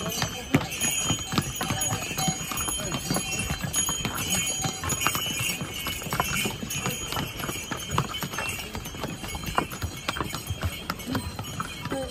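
Horses carrying goods walk the steep Kedarnath trek in Uttarakhand, their hooves giving a steady run of close, sharp clip-clops with faint bell jingles, while voices murmur in the background.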